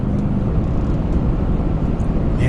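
Inside the cab of a 2018 Nissan Titan King Cab climbing Rocky Mountain hills at about 2,000 RPM, the engine drones low and steady. The truck has a 7-speed in tow/haul mode and is towing ATVs, and there is no talking.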